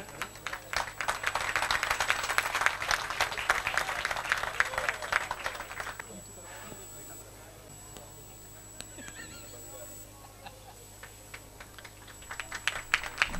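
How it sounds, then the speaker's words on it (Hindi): Clapping from an audience at a kavi sammelan poetry recital rolls loudly for about six seconds, then dies away into a quiet hall with a faint steady hum and scattered small noises. "जितनी बेटी के लिए तालियां बजाएं उससे कम बेटे के लिए नहीं होनी चाहिए।"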